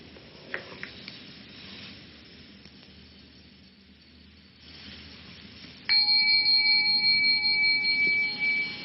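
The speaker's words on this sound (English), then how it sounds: "the bell came out of nothing, floated off, and then stopped being a sonic echo" A single bell strikes near the end with a clear ringing tone that holds and begins to decay, following a stretch of quiet room hush with a few faint knocks.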